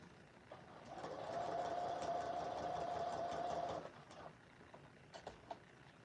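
A serger runs close by in one steady, humming burst of about three seconds as it sews along seam lines. Faint handling clicks come before and after.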